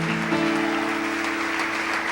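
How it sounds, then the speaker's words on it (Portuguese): A church congregation at an Assembleia de Deus service claps in praise, a dense steady wash of hands that fills the whole stretch, with a sustained tone running beneath it. "E as palmas louvam o Senhor"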